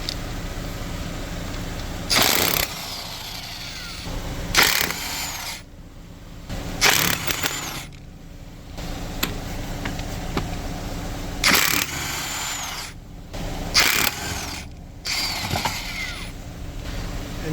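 Power tool spinning off lug nuts with a 22 mm socket on a Chevrolet Equinox, heard as several short loud whirring bursts separated by pauses, with mechanical clanks in between and no talking.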